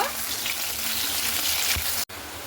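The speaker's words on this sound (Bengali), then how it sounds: "আলুটাকে লাল লাল করে ভেজে নেব।" Steady, close sizzling of potatoes frying in hot mustard oil fills the clip, with a brief cutout near the end.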